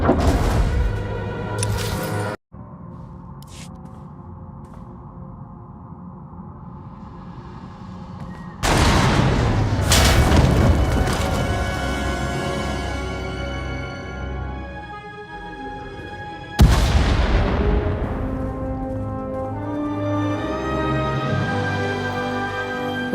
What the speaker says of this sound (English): We heard explosions, the tunnel collapsed.